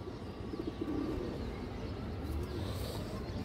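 A Muslodom pigeon coos softly inside a cage, its low murmuring calls faint against a steady background rumble.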